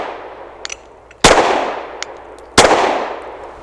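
Two loud Avidity Arms PD10 pistol shots roughly a second and a half apart, each a sharp crack with a short echoing tail, with faint metallic clinks before them and no talk.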